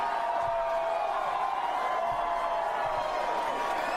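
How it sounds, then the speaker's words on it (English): Crowd at a political rally cheering, a dense sustained roar of voices and applause heard at a distance, steady and unbroken throughout. "Just more cheering."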